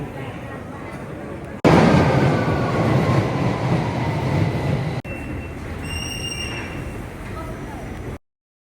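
A train rumbles and clatters through London's King's Cross station, wheels squealing at times, with a loud steady roar and occasional high whines.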